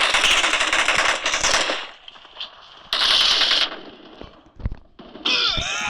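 Rapid bursts of automatic gunfire in the PUBG Mobile video game, loud close rattling volleys broken by short pauses, with a few single shots in between.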